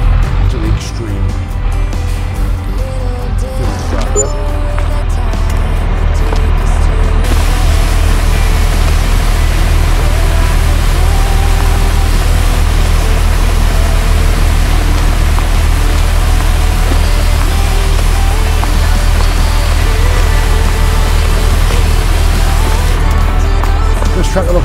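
A JCB tractor engine from the Farming Simulator 22 video game drones steadily and loudly for the whole stretch, a dense continuous rumble with a strong low hum and no distinct breaks.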